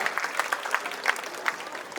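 A crowd claps steadily for a couple of seconds, a dense patter of hands that stays fairly even without swelling or fading.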